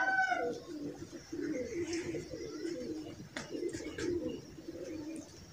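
Pigeons coo in soft, low repeated murmurs outdoors, with a few faint chirps from other birds in the background.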